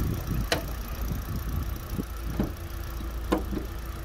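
A 2010 Hyundai Accent with a 1.4 four-cylinder engine idles in a steady, smooth low hum, with a few sharp clicks and ticks over it and nobody talking.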